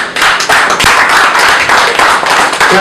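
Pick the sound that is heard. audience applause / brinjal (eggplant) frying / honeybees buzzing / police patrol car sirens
audience applause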